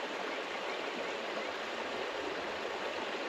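Steady, broadband rush of a creek flowing at a campsite in South Central Alaska, a continuous close water wash with no breaks, loud and unbroken throughout.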